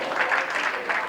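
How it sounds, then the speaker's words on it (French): A brief burst of crowd applause at a slam poetry festival, a dense, steady wash of clapping close by, lasting about a second. "Je vous demande d'applaudir pour vous-même"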